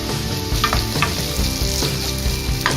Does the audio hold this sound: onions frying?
yes